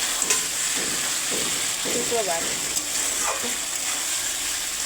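Meat cooks in a pan on a home kitchen stove with a dense, steady sizzle and soft stirring scrapes throughout, while a brief spoken word sounds over it.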